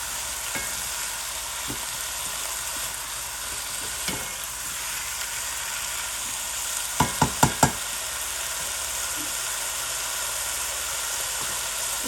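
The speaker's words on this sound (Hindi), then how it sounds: "अब इन सबको मिक्स कर देते हैं।" Chicken vegetable chow mein with soy sauce sizzling in a pan, a steady frying hiss under a few quick metallic scrapes and clacks of a spoon stirring, close and without speech.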